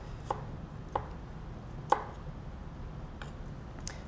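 A knife chops garlic cloves on a cutting board, five sparse, crisp taps spaced roughly a second apart over a quiet room hum.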